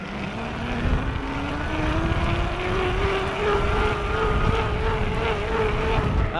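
A Raleigh Tokul iE electric bike motor whines steadily at high pedal cadence, its pitch slowly climbing under continuous loud wind rush.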